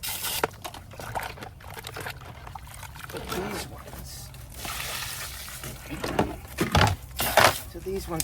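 High-pressure hose water spraying and splashing over Pacvac Glide 300 vacuum filters as they are rinsed, in uneven gushes and bursts, up close, with a person talking over the running water.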